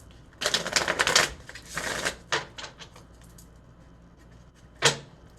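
Tarot cards being shuffled by hand: several quick riffling bursts in succession, fairly quiet and close, then a pause and one more short riffle.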